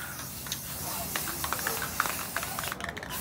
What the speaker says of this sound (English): you're just going to spray the whole tray